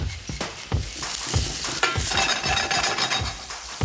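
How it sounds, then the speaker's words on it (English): Spices fry in a hot pan as they are stirred, producing a loud, close sizzle with repeated scraping and clinking of a utensil against the pan. "the thing with spices is you need to toast them, or in the instance like this, it'll be fried in the pan."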